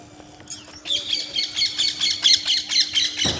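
Flock of birds squawking near a home during a festival day, a burst of harsh, repeated close calls starting abruptly and continuing in a rapid rhythmic chorus.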